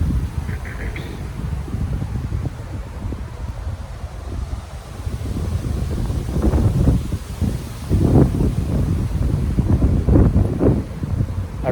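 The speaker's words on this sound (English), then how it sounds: "There's a lot of wind going on" Strong outdoor wind buffets the microphone in a continuous low roar that swells louder in gusts during the second half, rumbling nearby with no speech heard over it.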